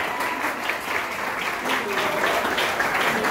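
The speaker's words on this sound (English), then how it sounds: "give them a big round of applause" An audience at a school foundation day celebration gives prize winners a dense round of applause, loud and continuous clapping filling the hall with no pause.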